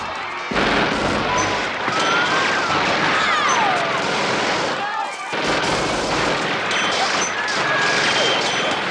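Gunmen shooting into a parade in the 1986 action film Avenging Force, loud bursts of gunfire mixed with screams and chaotic crowd noise, briefly dropping out around the middle before the shooting resumes.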